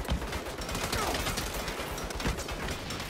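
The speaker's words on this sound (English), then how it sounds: "I wonder who was shooting me." Rapid bursts of gunfire from a chaotic firefight in Saints Row (2022), sustained and dense across the whole stretch, with sharp cracks standing out against a constant wash of battle noise.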